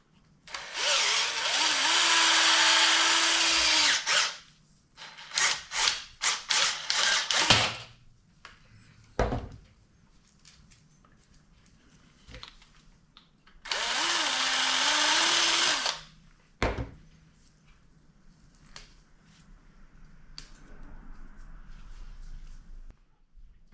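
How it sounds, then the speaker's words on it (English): Power drill boring out a hole in a stacked dipole antenna part, with two long loud whirring bursts separated by shorter stuttering trigger pulses and clicks, close up, and a faint hum between bursts. "I might actually drill that out a little bit more that way."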